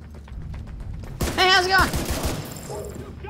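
Gunfire in The Division 2 video game, a short loud burst of rapid shots with metallic ringing tones following a quieter lead-in, voices briefly heard around it.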